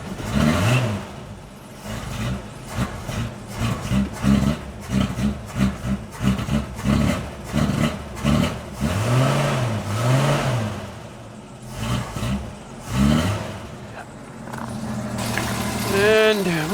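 A 1965 Ford Mustang V8 with a faulty carburetor runs close by, revving in repeated uneven bursts that rise and fall, while people talk over it throughout.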